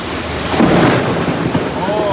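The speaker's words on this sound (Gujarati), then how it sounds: "ભાઈ એટલો વરસાદ પડ્યો છે ને, એટલું બધું ખતરનાક" Heavy rain pours over a flooded street in Surat while thunder rolls loudly through it, a dense steady roar of rainfall with a deep rumble swelling midway.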